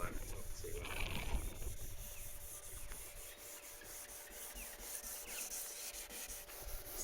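Faded paint on a car body is sanded with a steady, close rubbing scrape that continues throughout, alongside faint speech in the background.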